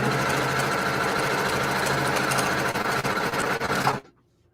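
A sewing machine runs steadily, stitching a quilt seam for a sampler quilt, loud and close with a constant motor hum for about four seconds before stopping abruptly.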